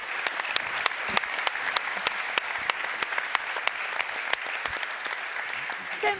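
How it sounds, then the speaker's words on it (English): Audience applause at a professional cycling team presentation, a steady dense wash of clapping with sharp individual claps standing out, fairly loud and continuous throughout. "Can we have a round of applause for all of that"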